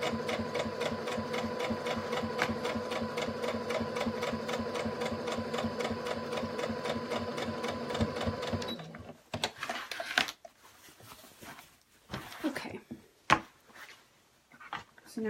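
Sewing machine stitching a fabric apron in a steady rapid run for about eight seconds, then stopping, followed by scattered handling clicks and rustles of cloth.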